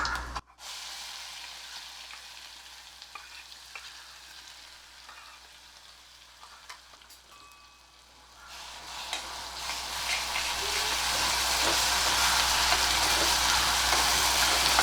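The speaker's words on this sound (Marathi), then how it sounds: "ह्याच्यामध्ये आता हे जे आपण वाटण केलं होतं ते घालायचं आहे सगळं" Ground masala paste hits hot oil already crackling with mustard seeds, cumin and asafoetida for a spicy val bean curry, opening with a steady sizzle that swells into a louder, continuous frying hiss near the pan.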